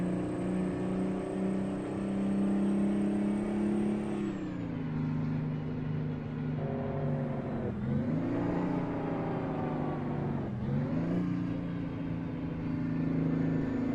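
Custom Peterbilt truck engine in American Truck Simulator, a loud steady diesel drone that rises and falls through several rev and gear changes, with a high whine fading out early, heard alone.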